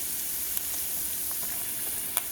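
Beef sizzles and fries steadily in a hot pan as flour is stirred in, with a constant hiss and a couple of faint scraping clicks, no voices.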